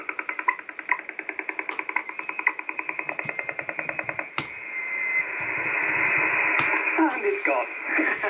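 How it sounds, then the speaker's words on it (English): An amateur radio band carries rapid pulsing interference and buzzing noise, then a sharp click and a hissing, warbling static wash, faint and without clear talk. "all sorts of noises on the band just then"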